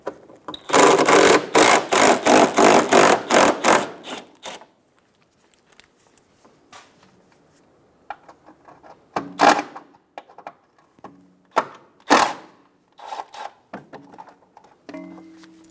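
A power tool backs out 10mm screws from the inner fender liner of a 2007–2011 Toyota Camry, heard as a close burst of rapid ratcheting whirs, then a pause and several separate short clicks and clunks.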